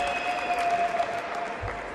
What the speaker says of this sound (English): The crowd is very excited here